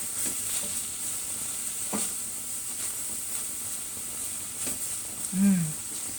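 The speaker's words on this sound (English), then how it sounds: "when the garlic hits that pan, hot pan" Diced garlic sizzling in a hot pan, a soft steady crackle and hiss with a few brief stirring scrapes and a short voiced sound near the end.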